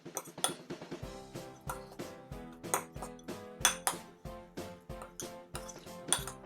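A utensil scrapes and clinks against a bowl as harissa, olive oil and rice stuffing are mixed, a steady run of close, bright metallic taps and scrapes at a brisk, fairly even rhythm.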